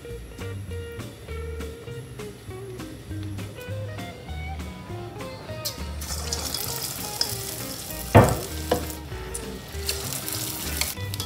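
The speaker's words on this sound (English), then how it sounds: "I am adding the oil for deep frying" Steady bubbling sizzle of green gram dhal fritters deep frying in hot oil, growing louder and more crackly partway through, with a few clinks, no talking.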